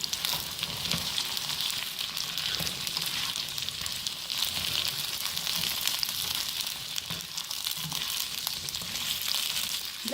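Okra (bhindi) sizzles in a hot pan with a steady, close frying hiss and faint stirring noises, lasting throughout without talk.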